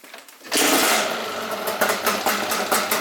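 A Yamaha Banshee two-stroke engine fires up close by outdoors and runs at a loud, buzzy idle with small throttle blips.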